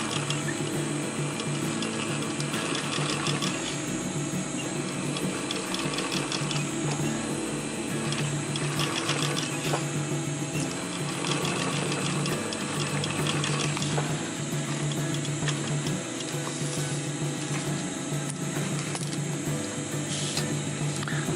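A sewing machine stitches PALS webbing in a continuous rapid mechanical clatter, loud and close, running steadily throughout with no pauses or voices.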